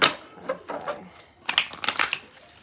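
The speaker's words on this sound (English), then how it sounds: "These don't want to shuffle." Tarot cards being shuffled by hand in a humid, hot room, giving a few bursts of riffling and flicking, close and moderately loud, with a brief lull in the middle.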